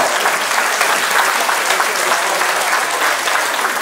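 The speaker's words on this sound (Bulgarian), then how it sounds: "Вашите аплодисменти за носителките на бронзовите медали" Audience applause for the bronze medal winners at the Cake Art Bulgaria Awards 2023, a dense, steady wash of many hands clapping at close range, sustained evenly throughout without any talk over it.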